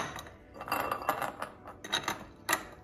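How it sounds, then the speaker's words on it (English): Ice cubes poured into a cocktail glass for a vodka sour, a quick run of close, bright clinks and clatters in several bursts, with no talk. "We pour ice cubes onto the glass."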